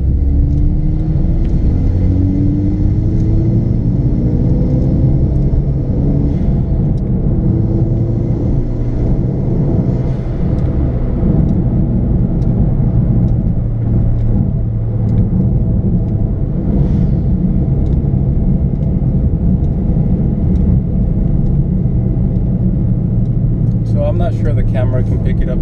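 Inside a Hyundai Veloster Turbo fitted with an Injen intake, a loud steady engine and intake drone rumbles through the cabin, with a brief hiss near the end, over a long continuous stretch.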